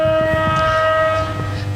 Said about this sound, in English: just as that halftime siren went